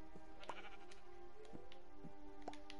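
Sheep bleating in Minecraft: several short, nasal bleats spaced about a second apart, moderately clear over a low steady background hum.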